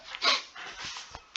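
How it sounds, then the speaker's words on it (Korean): A small dog next door barks in short, faint yips, a few quick sharp bursts heard from nearby but not close, with no talking over them. "강아지가 너무 짖네요."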